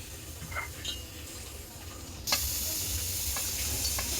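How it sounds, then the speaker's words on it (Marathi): Grated coconut and jaggery are mixed in a pan over a low flame for modak filling, with a soft steady hiss that rises abruptly midway, plus occasional light spoon clinks and scrapes close by. "लो फ्लेमवरती आपल्याला गॅस ठेवायचा आहे आणि त्याच्यामध्ये सगळं हे मिक्स करून घ्यायचं आहे"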